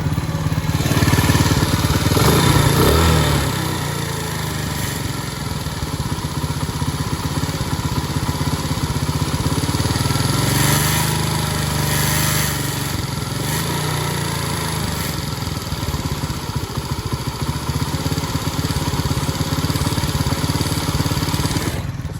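A warmed-up Mustang motorcycle engine runs steadily at idle, a continuous loud rumble with a fast, even pulse that holds throughout without revving or stopping.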